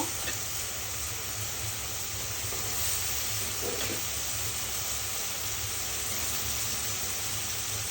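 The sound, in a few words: radishes added to fried spice paste, sizzling in pan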